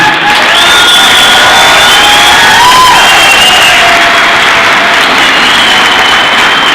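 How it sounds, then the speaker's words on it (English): Loud, steady applause and cheering from a live audience at an evening event with UFC fighter Chuck Liddell at City West, with whoops and shouts rising above the dense clapping throughout. "I just want to give him a round of applause because he's been brilliant."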